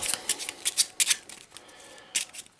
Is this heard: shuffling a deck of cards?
yes